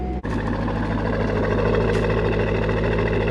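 A 1999 Chevrolet Corvette C5 coupe engine idles with a smooth, steady rumble after a brief click at the start, close and even throughout.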